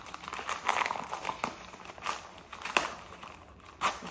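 Newspaper wrapping on a small parcel is crinkled and torn open by hand, a series of irregular crackling rustles and sharp paper snaps, close and fairly quiet.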